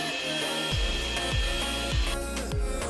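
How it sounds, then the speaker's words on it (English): Cashews being ground in a grinder, a loud, close motor whine with rhythmic surges about every half second as the nuts are churned, continuing without any talking. "First, grind the cashews."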